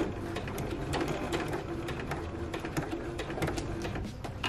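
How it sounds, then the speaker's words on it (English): Sewing machine stitching a dart in fabric, running in a continuous rapid mechanical whir with clicking needle strokes, moderately quiet and steady throughout. "So I'm gonna go ahead and backstitch here. Sew all the way down."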